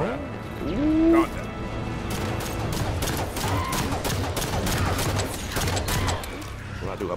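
Gunfire in the Halo 5 video game, rapid bursts of shots and mechanical clatter running continuously beneath someone talking.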